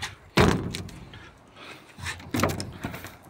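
A door with a vent window on a chocolate powder-coated greenhouse clad in 4 mm polycarbonate is opened, with a sharp knock and rattle followed later by another clatter, near and moderately loud.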